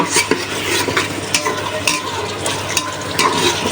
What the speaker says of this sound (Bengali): এখন মাছগুলো ভালোভাবে কষিয়ে তারপর লাউটা দিব